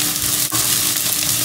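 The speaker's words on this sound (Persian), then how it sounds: "با روغن نارگیل این رو دارم تفتش کنم" Raisins fry in coconut oil in a pan, a steady close sizzle that runs throughout with light stirring scrapes and a brief dip near the middle.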